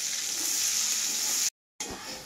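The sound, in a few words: onions frying in a pan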